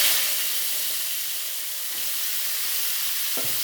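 Panch phoron spices and potatoes frying in hot oil in a pan, a steady close sizzle and hiss that runs the whole time, with a few faint clinks near the end.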